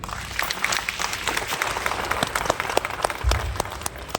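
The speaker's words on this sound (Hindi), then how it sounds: "ताली बजाइए" Audience applause at an RCM business meeting in India, a dense crackle of many hands clapping steadily for about four seconds, fairly close and filling the room, with no talk over it.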